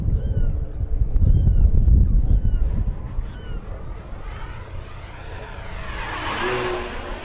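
An FMS T-28 1400mm V4 radio-controlled airplane flies overhead with a steady electric hum and whine that rises and falls in pitch as it passes, heard from a moderate distance over faint outdoor background noise.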